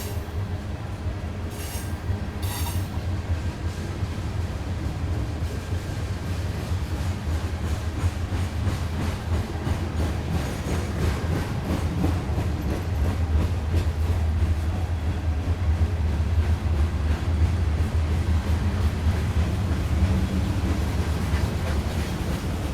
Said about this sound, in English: The manifest trains, just a mix of everything.